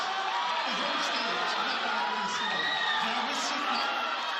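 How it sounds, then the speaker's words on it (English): Dense stadium crowd roaring and cheering steadily at an athletics relay race during the North East Games in Nagaland, with whoops rising over the din and a commentator's voice faintly beneath. "And look at the crowd, as you can hear the noise in the background."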